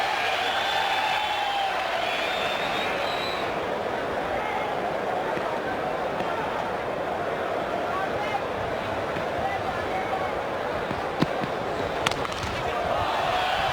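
Steady crowd noise with applause at a Test cricket match in Barbados, Australia versus West Indies in 1999, greeting Ricky Ponting's half century; a broad continuous wash of clapping and murmur at moderate distance, running unbroken throughout.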